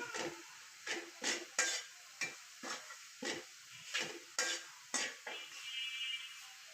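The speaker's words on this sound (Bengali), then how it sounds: "এইভাবে নাড়াচাড়া করতে করতে নারকেলটা একদম লালচে লালচে হয়ে যাবে" Grated coconut roasting in a pan, stirred with a utensil in a steady series of about a dozen scraping strokes, each a soft rasp close by with short gaps between.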